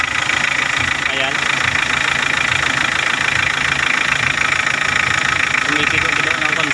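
Mitsubishi 4D56 diesel engine idling after an overhaul, a steady loud rumble with faint knocking and vibration running throughout, with voices talking over it.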